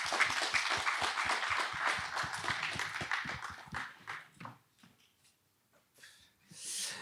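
A conference audience applauds after a talk, a few seconds of dense clapping that thins into scattered claps and fades to near silence before a brief swell at the end.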